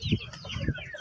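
Young incubator-raised roosters and hens, over three months old, give short close clucks and a few higher chirps in a brief burst.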